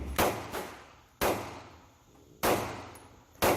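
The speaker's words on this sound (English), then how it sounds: "I've put the original barrel back in the Gen4 FS, and I'm going to shoot a group of 10" A Glock 19 Gen4 pistol fitted with its original factory barrel fires four sharp, irregularly spaced shots, each a crisp crack that rings off quickly, heard from a moderate distance.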